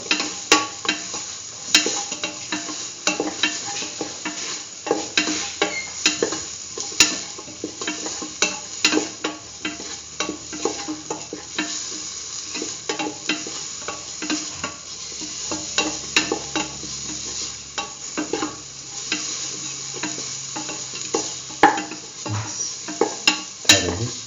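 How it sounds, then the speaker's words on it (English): A spoon repeatedly stirs and scrapes a spiced split chickpea and yam stew mixture in a pot, the rhythmic clinks and scrapes running over a soft, constant sizzle. "Mix all the ingredients together."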